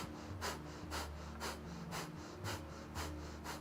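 Rhythmic yoga breathing in a Kundalini class, a series of quick, evenly spaced breaths about two per second, close and fairly quiet, with no talking.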